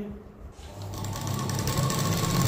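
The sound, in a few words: sewing machine stitching a hem with hemmer foot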